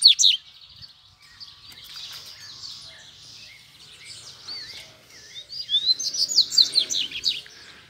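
A double-collared seedeater (coleiro) calls and sings near a pearl female, bright chirping phrases at the start and a louder burst of rapid song toward the end, with fainter calls between.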